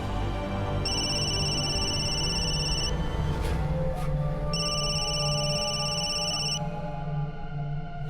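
A telephone rings in two long electronic bursts with a pause between, steady and clear over a soft background hum in an indoor drama scene.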